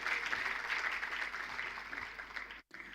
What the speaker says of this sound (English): Let's clap for our Honorable Minister.